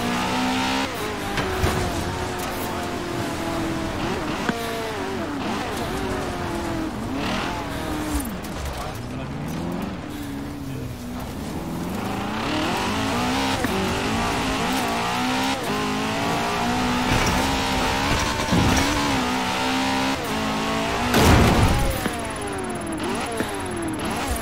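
A Bugatti in the Forza Horizon 4 racing game on Xbox One X revs and accelerates repeatedly, its engine pitch climbing and dropping through gear changes, with a burst of tire noise. Voices talk over the engine.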